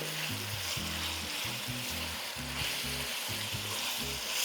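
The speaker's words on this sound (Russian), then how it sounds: "Все это обжариваем минут 15-20." Beef pieces frying in a pan with softened vegetables, a continuous hissing sizzle over a low, steady pulsing hum.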